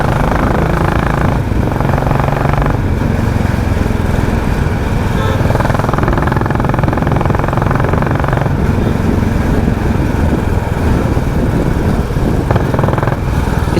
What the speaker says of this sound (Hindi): और इसका एग्जॉस्ट तो भाई हेलीकॉप्टर है,